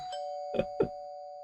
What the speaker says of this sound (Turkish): Evet zil çaldı.